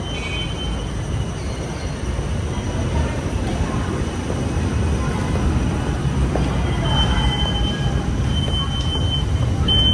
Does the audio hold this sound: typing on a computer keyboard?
no